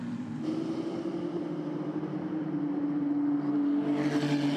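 Ferrari Challenge race cars run at Spa-Francorchamps, a steady engine drone at moderate distance that holds a sustained pitch, with a brighter rising whine swelling near the end.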